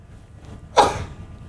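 A single sharp sneeze bursts out, loud and close, in an otherwise quiet room.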